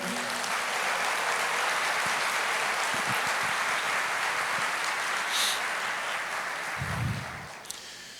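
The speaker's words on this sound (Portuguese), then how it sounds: "Você pode aplaudir o Senhor?" A church congregation applauds together, dense sustained clapping that fills the room steadily before tapering off near the end.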